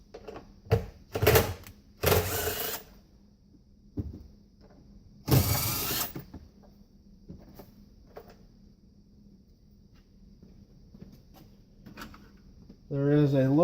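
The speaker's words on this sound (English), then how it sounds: "We'll start by removing these bolts." Bolts being removed from the trunk floor of a Hyundai Ioniq, heard as sharp bursts of clattering and clicking separated by quieter stretches, with a voice briefly at the end.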